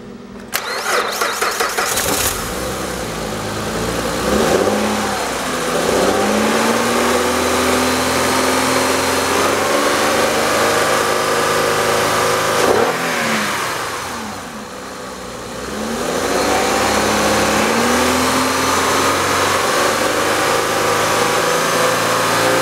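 A 2005 Acura RL engine cranks and catches with a quick stutter, then settles into a loud, steady running drone close by, dipping briefly midway before holding its idle again.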